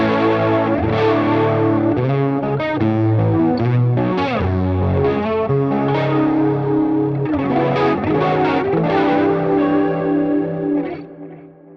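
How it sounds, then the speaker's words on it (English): Electric guitar runs through a standard chorus effect on a Line 6 HX Stomp, with shimmering, slightly warbling chords and single notes played continuously for about eleven seconds and fading at the end, close and alone. "So we just have a standard chorus sound."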